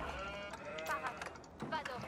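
Sheep bleat several times in the Age of Empires video game, mid-level and close, with other game sounds in the background.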